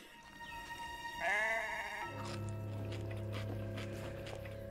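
Sheep bleating in the film Black Sheep, a loud wavering bleat in the middle over a steady low hum and background music.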